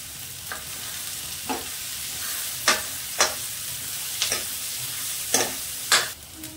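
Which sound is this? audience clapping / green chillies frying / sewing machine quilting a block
green chillies frying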